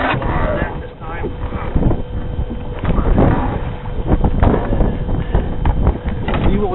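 Strong wind buffets a fishing boat out on the water at Crawling Valley, a steady rushing roar with microphone gusts throughout, alone with no voices.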